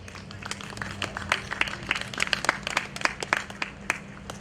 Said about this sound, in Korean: 진심으로 감사의 박수를 드리고 싶습니다.